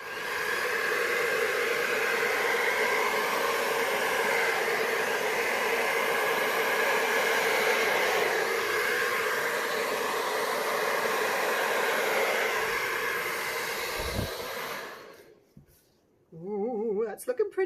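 A hair dryer on low blows air over a blue acrylic starburst Dutch pour, a steady close whooshing hiss that cuts off near the end, followed by a brief voice.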